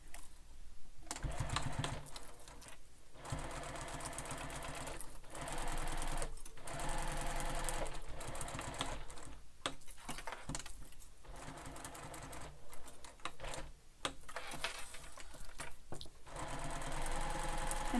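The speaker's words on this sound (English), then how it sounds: "we'll sew these together, and we're just basting, so you can use a longer stitch length for this basting" A sewing machine basting fabric panels for a backpack with a long stitch length, running in loud rapid mechanical bursts broken by short pauses, close and alone without talking.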